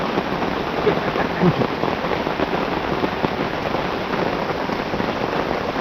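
Heavy rain pours during a storm in a forest, a dense, even hiss of drops on surfaces lasting throughout at steady loudness, with no voices over it.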